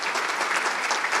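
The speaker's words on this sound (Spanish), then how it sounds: "pedimos un fuerte aplauso para iniciar su exposición" Audience applause at a business congress, a brief burst of many hands clapping densely and evenly, heard alone.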